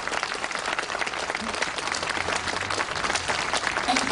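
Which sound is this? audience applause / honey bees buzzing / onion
audience applause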